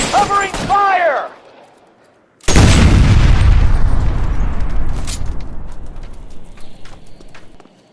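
A voice shouts briefly, then after a short gap a single heavy gunshot booms out in the L.A. Noire video game, loud and close, with a long rumbling tail that slowly fades.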